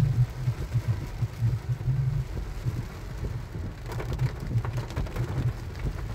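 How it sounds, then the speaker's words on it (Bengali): Heavy rain pours down over narrow residential lanes in a steady, dense hiss, close and continuous, with a low rumble in the background. "বৃষ্টির শব্দ হয়তোবা শুনতে পাচ্ছ,"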